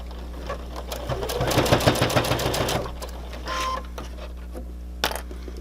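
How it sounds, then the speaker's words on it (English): A sewing machine stitches the end of a mast pocket in a short rattling burst of quick needle strokes, then falls quiet apart from a low steady hum and a few faint clicks. "I can start sewing this end."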